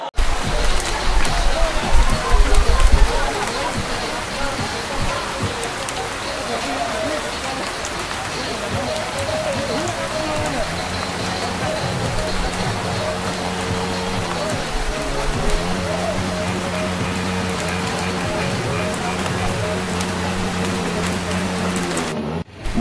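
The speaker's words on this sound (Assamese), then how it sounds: "আমি ইয়াত 1 ঘণ্টা ধৰি প্ৰায় ৰখি আছোঁ, বৰষুণ কমাই নাই" Heavy rain falling at the Champawati waterfall in Nagaon, Assam, a loud steady wash of noise that opens with a deeper rumble and continues unbroken, with no talk.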